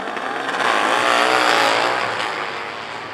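Pro Eliminator drag race cars at the AMRA Jim McClure Finals roaring down the strip, a loud sustained engine blast that rises and then recedes into the distance.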